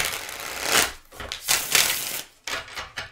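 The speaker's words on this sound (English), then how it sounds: "So 2 shuffles to clear the deck" A deck of tarot cards is shuffled twice, giving several short, crisp bursts of riffling and card flutter with brief pauses between them, close and fairly soft.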